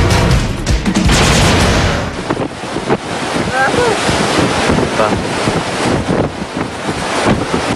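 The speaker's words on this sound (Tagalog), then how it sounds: "Malakas na hangin, ulan at alon sa dagat." Loud gusting wind buffets the microphone over crashing sea waves, a rough, continuous roar that surges and eases, with rain, during a typhoon.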